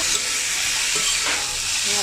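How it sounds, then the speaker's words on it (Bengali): Boiled cabbage stir-frying in cooked spice paste, a continuous close sizzle and hiss with faint scraping as it is stirred, steady throughout. "এটা একটু ভালোভাবে ভেজে নেব, এইভাবে নেড়ে নেড়ে ভেজে নেব"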